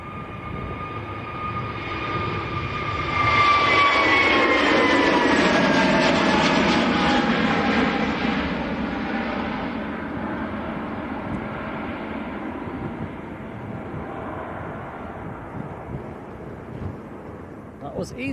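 An EasyJet airliner bound for Hurghada, Egypt, passes at Manchester Airport with a broad, steady jet roar that swells and slowly fades over about eighteen seconds, while a voice talks over it.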